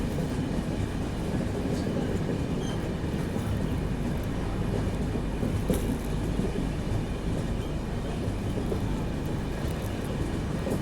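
Long-distance AC superfast express train running on rails from Assam to Bengaluru via Durgapur, a steady, dense rumble with faint clickety-clack, heard continuously at even loudness throughout with no talk.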